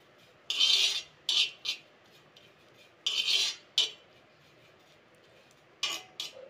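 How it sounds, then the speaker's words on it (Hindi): Ajwain and cumin seeds dry-roasting in a pan over low heat, with short scraping, rasping strokes of a spatula coming in separate bursts against a quiet background. "देखिए इसमें भूनने की आवाज आने लगी है"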